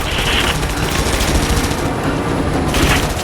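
Sustained automatic gunfire from a battle in the video game Rise of the Tomb Raider, a loud, dense continuous rattle of shots with no pauses.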